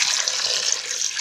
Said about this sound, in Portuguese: Agora eu vou colocar água para cobrir esse umbu